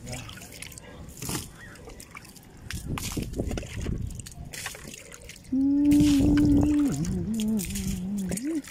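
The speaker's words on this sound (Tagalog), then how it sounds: "Dilig-dilig muna tayo guys sa ating project na pagsisemento." Water poured over fresh cement work at a home in Tanza, Cavite, trickling and splashing in an uneven stream with a steadier gush midway, while a voice talks over it.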